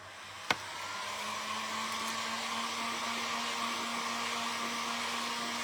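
A hair dryer dries paint on a thrifted bird figurine, switching on with a sharp click and then blowing a steady, close whooshing whir that continues alone.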